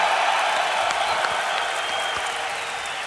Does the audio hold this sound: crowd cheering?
yes